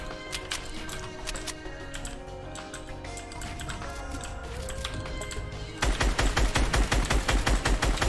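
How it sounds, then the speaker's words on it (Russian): Rapid gunfire from the video game Fortnite, with steady bursts and game music throughout, growing into a loud, dense stream of close shots in the final seconds. "Я даже не вижу, откуда он стреляет."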